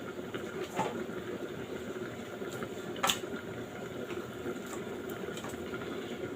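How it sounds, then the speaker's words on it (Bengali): Two sarang puti fish fry in hot oil, giving a steady, close hissing sizzle with a few sharper pops and crackles, and no talking. "এখন আমি মাছ ভাজবো, সারংপুটি মাছ আমি দুটি মাছ ভেজে নেব।"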